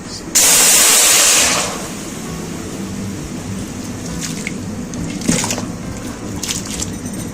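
Pressure-cooked mutton hits a hot kadhai with a sudden, loud sizzling hiss that lasts just over a second and then settles into a low, steady simmer, broken by a few faint clinks and scrapes.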